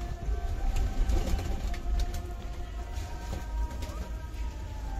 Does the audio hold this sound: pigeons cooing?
yes